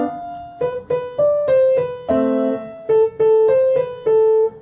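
Piano played with both hands, a short two-handed phrase from Paganini's Caprice of separate struck notes and chords in a steady, moderate rhythm, close and clear with no talking.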